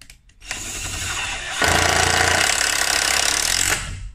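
An INGCO 18V cordless impact screwdriver drives screws into wood, a loud buzzing motor that breaks into sustained rapid hammering impacts for about two seconds before stopping, with no talking.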